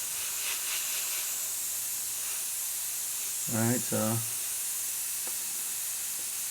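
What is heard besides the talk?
Badger airbrush spraying white Stynylrez primer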